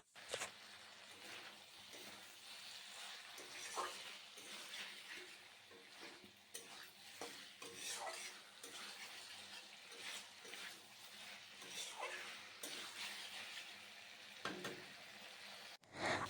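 Vegetables with tomato, chilli and soy sauces frying and being stirred in a pan for chilli chicken, a soft steady sizzle with scraping and clinks of a utensil against the pan, fairly quiet throughout.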